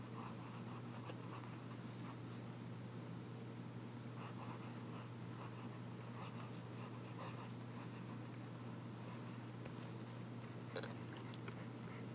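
Nib of a Pineider Avatar Red Devil fountain pen scratching steadily across paper, a soft continuous close scratch with faint strokes and small taps, alone with no talk.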